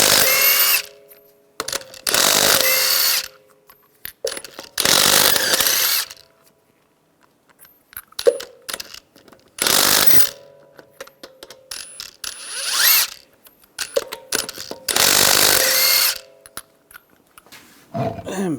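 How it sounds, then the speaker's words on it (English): Impact tool spinning off 22mm wheel lug nuts on a 2011-2018 Ram 1500 pickup, loud repeated mechanical ratcheting bursts of one to two seconds each, separated by short pauses, with no talking. "use a 22mm socket, take the lug nuts off"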